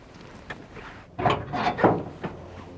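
The hood of a 1957 Oldsmobile opens with a few soft creaks and metallic clunks, the loudest bursts clustered near the middle of a brief, quiet moment.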